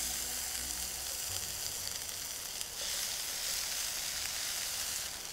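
Chopped onion, about a quarter cup, sizzling loudly in a hot pan as a pizza topping, with steady frying hiss and a few faint scrapes near the start.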